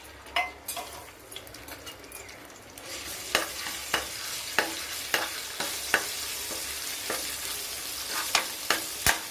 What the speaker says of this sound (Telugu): ఆయిల్ హీట్ ఎక్కినాక జింజర్ గార్లిక్ వేసుకోవాలి.